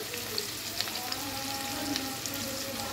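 Onions for a vegetable biryani fry in a pan with a soft, even sizzle and a few faint pops, heard up close with no talking.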